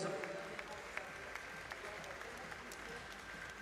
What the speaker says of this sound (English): Applaudissements pour l'équipe de Russie